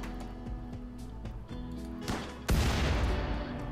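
A frag grenade goes off in the RimWorld video game, a sharp blast that cuts through a quieter stretch of game sounds and leaves a loud, noisy roar afterwards.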